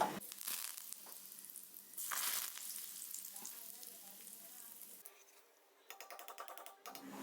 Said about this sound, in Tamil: இப்போ இதே ஆயிலில் கருவேப்பிலையை ஃப்ரை பண்ணி எடுத்துக்கலாம்